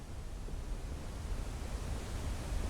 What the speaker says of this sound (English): A nice waterfall.